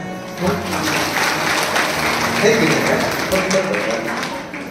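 An audience claps during a Shiv Mahapuran religious discourse, a broad, steady burst of applause lasting several seconds with some voices mixed in underneath.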